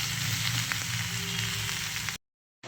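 Taro stolons and prawns sizzle steadily in a hot pan while being stirred, a dense, loud frying hiss that cuts off abruptly near the end.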